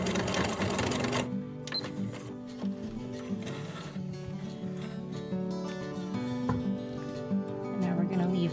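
Sewing machine running a back stitch, a steady close mechanical whir with rapid rhythmic needle ticking over a background hum.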